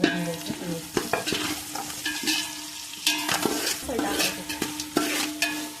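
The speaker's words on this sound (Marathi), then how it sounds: "आता आपला कांदा चांगला लाल भाजायला लागला आहे" Onions browning in a pan for chicken biryani give a close, continuous sizzle, with frequent spatula scrapes and clinks in an uneven rhythm and no talk.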